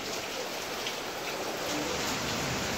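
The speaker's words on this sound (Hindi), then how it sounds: "बारिश" Steady heavy rain pours during a thunderstorm, a dense, continuous hiss of drops close by with no voices.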